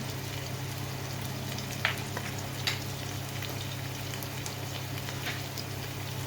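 Chopped ginger and garlic frying in a pan, a steady broadband sizzle with a couple of brief clinks from stirring, moderately close and without speech.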